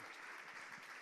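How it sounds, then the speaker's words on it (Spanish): Church congregation applauding during a Spanish-language sermon, a steady, soft wash of many hands clapping at a distance. "dale un aplauso fuerte al Señor"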